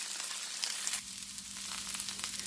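Vegan beef pieces saute in a pan, giving a steady, moderately faint sizzle and crackle with a low hum underneath, no voices.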